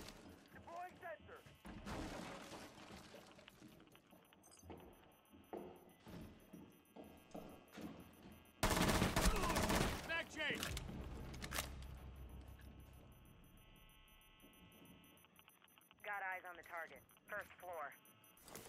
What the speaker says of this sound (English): these bitches are really shooting at me right now